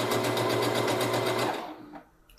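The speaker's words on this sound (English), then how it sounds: "sewing in this direction and I'm soon going to get to a point where I need to stop stitching" A sewing machine stitches a drawstring bag with a fast, steady, close whirring hum that slows and stops near the end.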